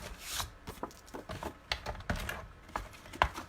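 Two pieces of Whisper White cardstock being cut together, heard as soft, close crisp snips and rustling with irregular small clicks, faint and without talk.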